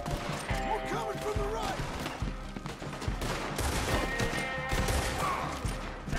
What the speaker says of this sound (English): I'm just, like, unloading shots into people, and it's doing nothing